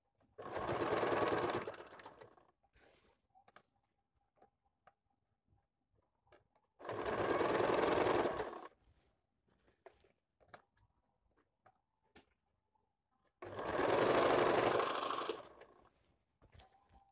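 A sewing machine stitches the neck and shoulder seams of a kameez in three loud bursts of a couple of seconds each, separated by quiet pauses with small handling clicks.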